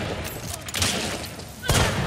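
Gunfire in the game Hunt: Showdown, a few loud sharp shots that crack out amid chaotic game noise, with faint background sound in between.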